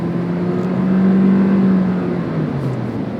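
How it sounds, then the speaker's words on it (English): A 2023 Toyota Prius XLE with a CVT hums steadily as it drives, a loud sustained engine drone holding one pitch and swelling slightly mid-run before easing off. "The sound of a CVT is it's glorious."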